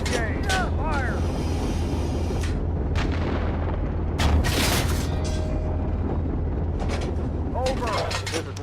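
An artillery gun fires several times during a live-fire exercise. The deep booms are spaced out over steady background rumble, and radio voices and chatter run alongside them.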